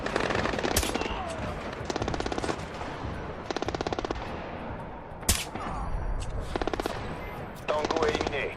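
Bursts of automatic gunfire in the Splinter Cell Blacklist video game, several sharp rapid volleys with pauses between, fairly loud over a low game background.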